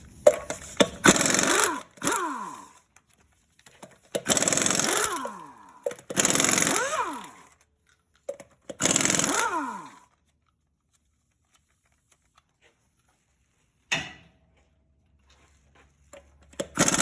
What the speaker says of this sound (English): We're going to take off the lug nuts first thing with 7/8.